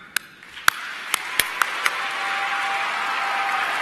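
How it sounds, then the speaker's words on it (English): A few scattered claps ring out at a conference gala, then a broad wash of crowd applause swells and holds steady. "Can we try it? Let's clap."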